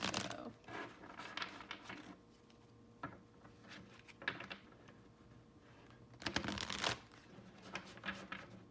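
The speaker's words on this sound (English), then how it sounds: "I'm going to be shuffling on camera today." Crisp riffling bursts of cards being shuffled, repeated several times with brief pauses between, close and fairly quiet.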